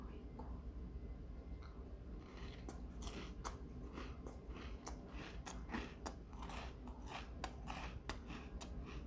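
New lemon-flavoured Ritz crackers are crunched and chewed close to the mic, irregular crisp bites repeating over a low, quiet background.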